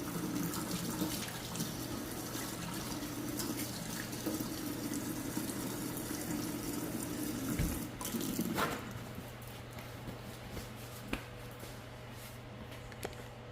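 A kitchen faucet runs steadily while hands are washed under it, with a continuous splashing rush that quiets partway through, followed by lighter drips and small clinks.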